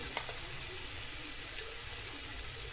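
Ground masala paste frying in oil in a pan for a home-style vegetable curry, a steady, soft hiss and crackle with one faint clink near the start.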